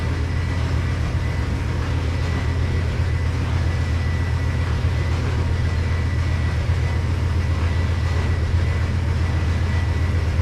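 A passenger train rolls through a rail yard in Trainz 2022, producing a steady loud low rumble of wheels and engine that runs continuously without pause or voices.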